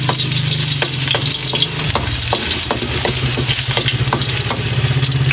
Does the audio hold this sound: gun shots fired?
no